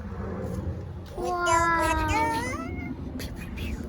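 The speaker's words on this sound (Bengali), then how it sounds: "আচ্ছা দেখি এই বিড়ালটা কই যায়?" A cat on a rooftop gives one clear, drawn-out meow in the middle, nearby and fairly loud, over a steady background rumble and faint voices.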